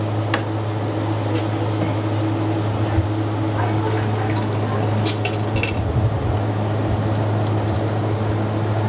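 A bucket of cereal-flavored ice cream mix is emptied into a batch freezer machine, giving soft liquid squishing and splashing over the machine's constant low hum.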